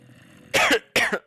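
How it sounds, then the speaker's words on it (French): A person gives two short, sharp coughs in quick succession after a brief quiet moment, close to the microphone. "Oh, je tousse"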